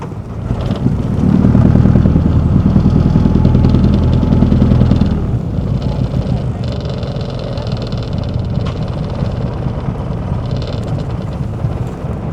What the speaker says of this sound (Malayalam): ബോട്ട് മന്ദം മന്ദം കരയിലേക്ക് അടുക്കുകയാണ്.